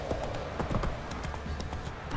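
Rhythmic clip-clop of horse hooves at a steady trot in The Witcher 3, close and clear over a busy background.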